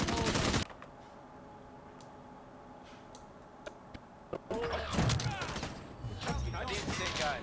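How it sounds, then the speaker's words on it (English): Gunfire in Call of Duty Warzone: a loud burst opens, then scattered sharp single shots over a quiet stretch, followed by a dense, sustained volley of rapid fire near the end. "Oh shit, I'm getting shot."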